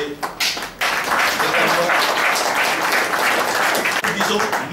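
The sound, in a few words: audience applause for the European Union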